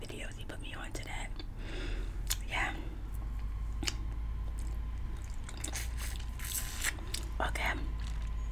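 Close crunchy bites and steady chewing of Krispy Kreme donuts, repeated soft crunches and squishy mouth sounds under continual whispering.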